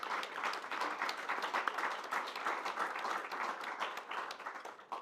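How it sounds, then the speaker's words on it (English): Audience applause at a conference on European information integrity: dense, steady clapping from a crowd, moderately distant and even in level throughout, with no voices over it. "So maybe a huge applause for them at this place."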